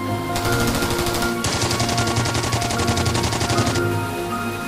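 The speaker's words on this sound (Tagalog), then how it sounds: "Tapos putok ng baril." Rapid bursts of gunfire crackle loudly and continuously over a droning low-pitched musical bed, a sustained volley lasting several seconds in a horror story setting.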